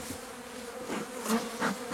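Honey bees buzz steadily around a hive during a varroa mite treatment, a close, continuous drone with individual insects swelling louder as they fly past, and no talk.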